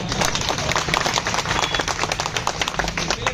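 A protest crowd at a sit-in outside a selection commission claps thinly and unevenly, with scattered, sparse hand claps continuing steadily throughout over a dense background murmur.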